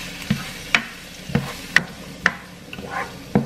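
Bell peppers sautéing in a pan with onion and garlic, a soft steady sizzle broken by sharp utensil taps and stirring clatters about every half second, close by with no talk.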